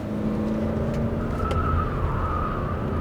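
Kia Sedona 2.2 diesel minivan driving in third gear, a steady close cabin rumble of engine and road noise with a faint whine, continuous throughout.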